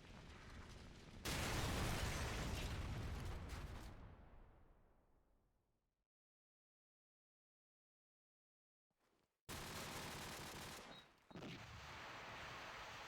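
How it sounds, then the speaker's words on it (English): Call of Duty 4 gameplay from a LAN tournament match: a loud burst of gunfire and an explosion that decays into silence, then more heavy gunfire with a sharp blast resumes after the gap. "The car explosion is going to get that guy, and then he also gets gotten by a grenade."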